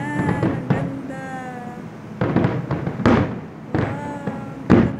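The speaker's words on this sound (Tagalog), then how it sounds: "Ang ganda ng fireworks." Fireworks bursting over Jeddah for Saudi National Day, heard as repeated loud booming blasts with crackling tails in several clusters, with cheering voices and talk in the crowd around them.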